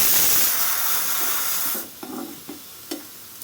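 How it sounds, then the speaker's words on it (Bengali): Onion and garlic fry in oil with a strong, bright sizzle at first. The sizzle then drops to a softer hiss broken by a few stirring clatters. "পেঁয়াজ রসুন ফোড়ন রেডি হয়ে আসতে আছে"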